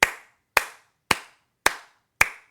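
Five single handclaps, loud and close, spaced evenly about half a second apart, each dying away fast into silence, with no voices.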